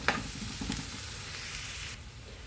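Onions fry in a pan of oil until browned for a cashew cauliflower curry, giving a close, continuous sizzle with a couple of stirring clinks early on, then quieting slightly near the end.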